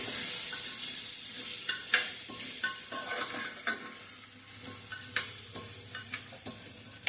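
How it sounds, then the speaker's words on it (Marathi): Diced red pumpkin is stir-fried in a pan over a medium flame, a low sizzle with scattered spatula scrapes and clinks at irregular intervals, close and quiet, with no voices. "भोपळा आपण छान परतून घ्यायचा आहे"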